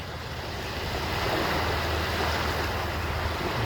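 Sea waves heard from ground level on a rocky volcanic shore in British Columbia, a steady broad roar of surf and wind that stays loud and unbroken throughout, with no voices.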